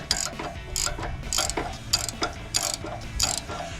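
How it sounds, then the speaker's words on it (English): A ratcheting box-end wrench loosens a nut on a Jeep Wrangler JK drag link, making close, loud bursts of rapid metallic clicking that repeat in short strokes with no talking. "I'm feeling really good about my purchase of this ratcheting box end wrench"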